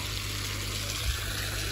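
Elephants named Lakshma and Gomti drinking water at a jungle watering spot in Jim Corbett National Park, heard as a steady wet, gurgling water wash with low rumbling swallowing at moderate loudness, no talking.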